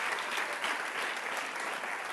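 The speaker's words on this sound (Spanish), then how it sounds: "Dele un aplauso al Rey." Congregation at a church service applauding together, a steady dense wash of clapping that holds evenly and fairly loud throughout with no talk over it.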